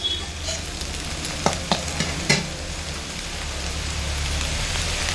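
Spices and cashews for a vegetarian dal fry with a steady rain-like sizzle, and a few sharp scrapes of stirring come early on before the frying continues evenly, with no talk.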